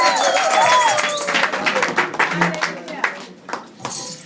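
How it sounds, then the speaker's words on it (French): A church congregation claps at a service, the applause loud at first and then thinning into scattered individual claps as a voice speaks over it. "nous applaudissons fortement pour Jésus-Christ"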